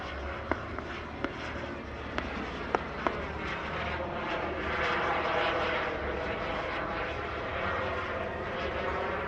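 Super Salto, a German jet-powered aerobatic glider, flying at an airshow: a steady whooshing engine roar, rising slightly midway, with a few sharp clicks and taps near the start.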